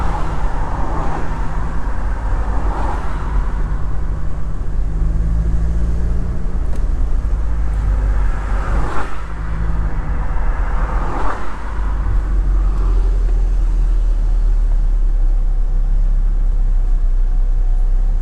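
A car driving through city traffic in Walsall, UK, heard from inside as a low, steady engine and road rumble with faint passing swells.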